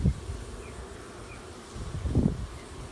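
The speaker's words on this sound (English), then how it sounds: "A lot of bees. There's some larvae in there." Honey bees hum steadily in an open upper hive chamber during a hive inspection, a soft, continuous low drone that swells briefly near the end, heard close with no talk.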